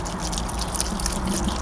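Water poured from a can trickles and splashes over the leaves of freshly planted Rose Campion in a perennial border, a steady close-up patter and dribble with no talking.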